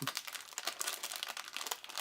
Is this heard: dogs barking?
no